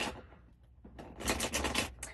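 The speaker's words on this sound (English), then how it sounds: "I'm just getting a few shuffles for, before we start" Playing cards riffled and shuffled at close range, a short burst of crisp, rapid ruffling that builds into dense clattering flutters before tapering off, with no talk over it.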